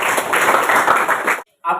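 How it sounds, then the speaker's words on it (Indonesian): Classroom applause for a classmate, a dense burst of clapping from a group for over a second, close and loud, ending abruptly with a brief snippet of a voice. "Mari kita aplaus untuk teman kita."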